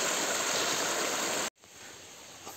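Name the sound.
water flowing on mountain trail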